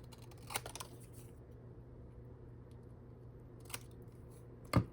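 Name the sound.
cutting paper ticket corners with small Cutter Bee scissors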